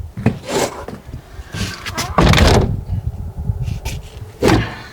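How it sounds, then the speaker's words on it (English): An old wooden door in an abandoned general store swings and bumps shut with rubbing, creaking scrapes and a few knocks, loud and close, in bursts over several seconds. "Functioning door."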